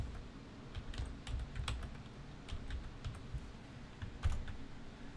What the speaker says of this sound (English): open up your browser again and type in an incorrect URL.